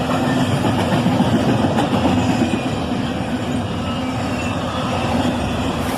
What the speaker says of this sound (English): An intermodal train, led by an ES40 DC and an ES44 DC.